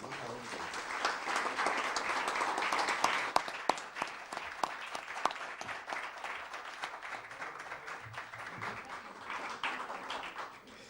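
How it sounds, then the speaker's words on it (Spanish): An audience at the Spanish presentation of the book "El peso de la Cruz de Hierro" by José Manuel Echevarría gives a sustained round of applause. Dense clapping rises and holds for about ten seconds, with a few sharper individual claps near the middle. "les pido a todos un fuerte aplauso para él"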